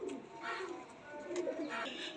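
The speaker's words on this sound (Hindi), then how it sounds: "ये चौधरी साहब वाले कबूतर है मेरे भाई" Pigeons softly cooing close by in a couple of low, rounded murmurs, faint and alone with no talk.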